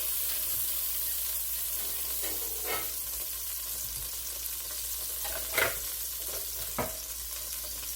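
Half a stick of butter or margarine melts in a large six-quart pot, giving a faint, steady sizzle broken by a few soft knocks and scrapes from stirring.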